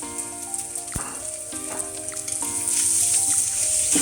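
Egg fried rice being stir-fried in a pan, with a steady sizzle and occasional scraping strokes of a spatula, growing louder and hissier toward the end.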